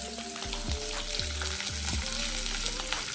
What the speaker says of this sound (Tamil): வெங்காயம் ஆட் பண்ணி கொஞ்சம் கலர் சேஞ்ச் ஆகிற வரைக்கும் வதக்கி விட்டுக்கலாம்.